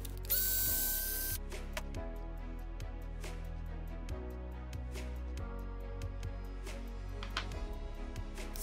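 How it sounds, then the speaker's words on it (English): A ratchet backing out screws on an Arrma Granite RC car bumper: a loud initial burst, then runs of quick, close clicking pawl ticks repeating at a steady rhythm. "let's go ahead and back all the screws out"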